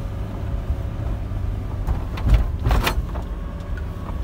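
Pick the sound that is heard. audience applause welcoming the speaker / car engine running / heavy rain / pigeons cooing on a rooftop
car engine running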